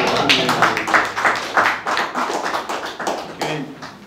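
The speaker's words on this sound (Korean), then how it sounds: "일단 박수 한번 쳐드리자고." Audience at a lecture event on a scholarly approach to Sinsi claps together in a steady, fairly loud burst of hand claps lasting a few seconds, with a faint voice underneath.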